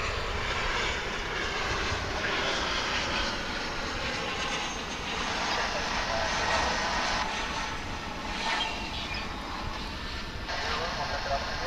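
A SkyWest airliner's jet engines roar continuously at Dallas/Fort Worth International Airport, a steady broadband rumble heard from a distance with little change throughout.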